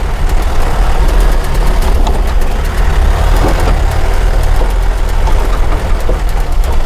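A car engine labours in first gear up a steep, narrow road, a loud steady low rumble that holds throughout with no voices.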